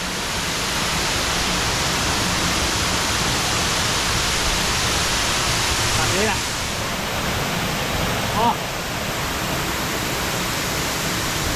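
Bang Pae waterfall gives a constant dense hiss of falling water, steady and close. A voice speaks briefly over it.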